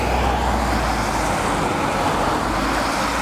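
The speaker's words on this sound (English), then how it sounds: "you are hearing some of the cars that passing through this" Continuous road traffic hum as cars pass by on a road in Japan during autumn, a steady, fairly loud broadband roar without distinct pauses and no talk over it.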